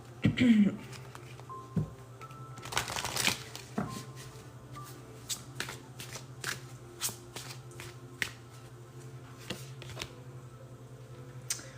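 Oracle cards shuffled by hand close up, a burst of riffling near the start followed by a run of crisp, evenly spaced card taps and slides over a low steady hum.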